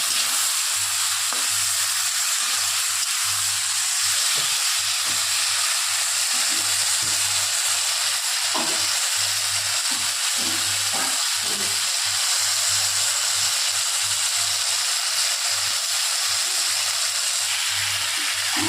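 Spices fry in oil for a Bengali bata fish curry with ridge gourd, producing a loud, steady hiss and sizzle that runs unbroken, with a low hum underneath.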